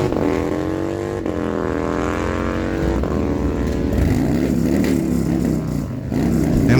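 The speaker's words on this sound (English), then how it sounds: "Mike runs his bike through at a 1168 with a 7, 112 miles an hour" A 2002 Harley-Davidson Night Train roars down a drag strip, its V-twin engine note climbing in steady, rising harmonic sweeps through each gear, loud and close the whole way.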